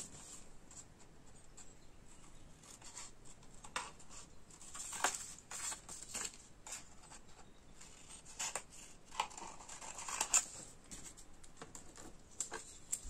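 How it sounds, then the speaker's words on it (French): Scissors snipping the corners off a paper mini album, quiet close-up cuts and paper rustles scattered unevenly, with slightly louder snips near the end. "On va couper les angles."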